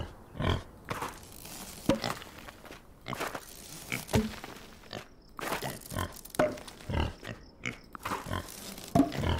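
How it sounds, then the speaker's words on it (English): Pigs in the Farm Together farming video game grunt and oink repeatedly in short bursts over a busy background of game sounds, fairly loud and close, without speech. "Go and check on the piggies."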